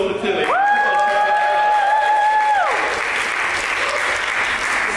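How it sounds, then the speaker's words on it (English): A crowd applauds and cheers loudly for Tilly, dense clapping that fills the room throughout, with a sustained musical tone sounding over the start. "So, big round of applause for Tilly."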